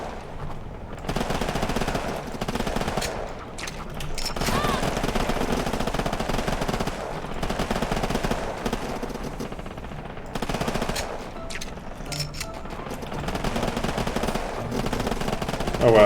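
Rapid machine gun fire in a biopunk video game, long sustained bursts of rattling shots with brief pauses between volleys, loud and continuous over game sounds.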